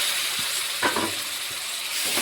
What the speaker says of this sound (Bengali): একটু খুব ভালোভাবে ভাজতে হবে যতক্ষণ না এর গন্ধটা যায়।